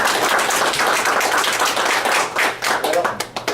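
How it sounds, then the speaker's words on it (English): Audience applause for Mr. Geddings at a Cayce Mafia breakfast gathering, a dense wash of many hands clapping steadily, then thinning into scattered claps near the end. "Let's give Mr. Geddings a round of applause."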